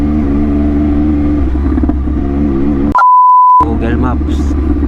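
A CFMOTO 675SR-R motorcycle with an SC Project exhaust idles and rumbles steadily up close in traffic, cut by a brief electronic tone midway before the engine murmur returns.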